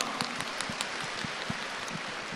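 Audience applause at a live Chinese talk session: a brief, dense patter of many hands clapping at a steady moderate volume.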